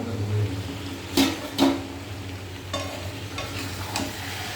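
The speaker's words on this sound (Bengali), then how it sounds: "একটু ঘন ঘন নাড়া দিতে হবে, নাহলে চিকেনটা নিচে লেগে যাওয়ার ভয় থাকবে।" Chicken frying in a pan on low gas heat after being covered to cook, with a steady sizzle broken by several distinct stirring scrapes close by.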